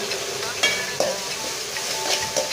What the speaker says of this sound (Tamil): நல்ல தக்காளி மேஷ் ஆகிற வரைக்கும் வதக்கணும்.